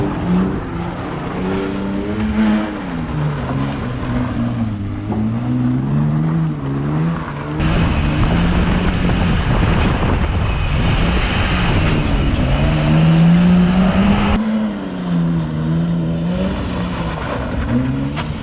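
A BMW 320i E36 with a modified exhaust runs loudly, its engine note rising and falling through repeated revs with a throaty drone, close and steady throughout without talk.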